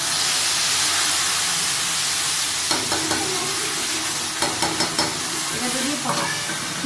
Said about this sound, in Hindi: तेल गर्म हो जाएगा तो मैं डालूंगी जीरा और मैं डालूंगी इसमें हींग